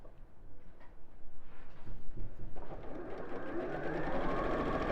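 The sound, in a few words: sewing machine sewing a seam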